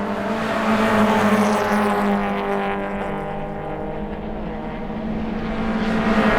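Race cars roar around a circuit during a WA Sporting Car Club 100K Cup round at CARCO.com.au Raceway, with a loud, sustained engine drone whose pitch rises and falls as the cars pass.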